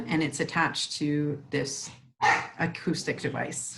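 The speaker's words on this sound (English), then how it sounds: "Sorry about the dogs barking in the backyard" Dogs barking in a backyard, a few yapping barks heard faintly behind someone talking steadily in the foreground.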